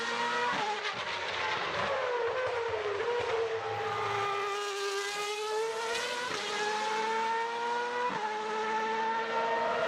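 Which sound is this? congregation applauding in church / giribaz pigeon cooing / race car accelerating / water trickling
race car accelerating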